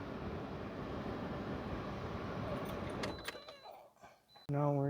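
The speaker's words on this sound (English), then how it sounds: "So now we are just going to shut the vehicle off." A 2009 Pontiac Vibe 2.4 AWD engine hums quietly and then cuts out after a few seconds, leaving near silence before a short electronic chime sounds.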